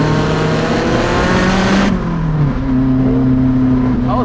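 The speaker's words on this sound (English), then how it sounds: "Oh, the Porsche is also giving it some beans." Porsche sports car accelerating hard on a Swiss Alpine pass, a loud close engine note climbing in pitch, dropping briefly at a shift around the midpoint, then rising again as it keeps pulling.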